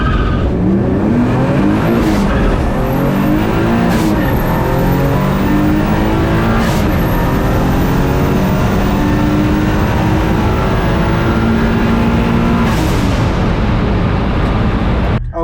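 A turbocharged drag car running 25 PSI of boost launches hard, its engine roaring loud and close with rising, stepped revs through the gears and sharp bangs and hisses between shifts over about fifteen seconds.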